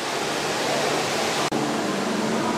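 An indoor waterfall at a Singapore attraction gives a dense, steady roar of falling water close by. It fills the whole clip at an even level with one brief cut partway through.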